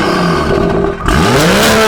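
A BMW 440i engine revs up loudly and close, holding a steady growl, dipping briefly, then surging with a rising, climbing tone.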